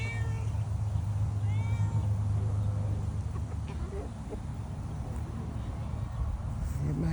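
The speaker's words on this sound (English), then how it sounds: "And my cat, he around my legs, bothering me for more food." A house cat meows persistently for more food near a chicken coop as rain approaches, its calls rising clearly over steady outdoor background noise with a person talking nearby.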